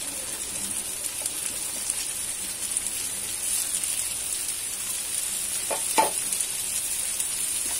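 Garlic and onion fry in a pan for soup, a steady close sizzle running throughout with a couple of brief stirring scrapes near the end and no voices.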